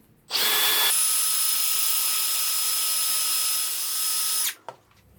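A drill bores pilot holes into wood for a ukulele stand. One sustained high-pitched whine runs for about four seconds at close range, then cuts off, followed by a brief clunk.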